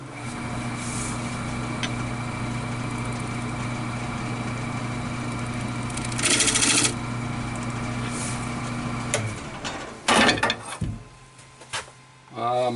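A wood lathe runs with a steady, low motor hum while a shop-made round cutter works a hard maple crotch, giving a few brief bursts of rough cutting noise before the hum cuts out near the end.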